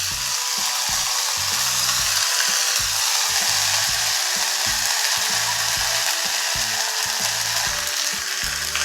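Chili, ginger and cumin pastes frying in oil in a pan give off a loud, constant close sizzle, with a rhythmic scraping of stirring pulsing underneath, and no one speaks.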